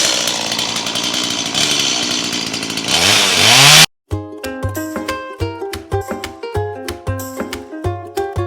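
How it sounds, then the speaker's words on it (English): A chainsaw roars loudly and continuously as it cuts into a burned tree stump, then winds down and stops, followed by a run of rhythmic metallic clinks and taps. "I'm gonna grab a chainsaw and make a deeper hole"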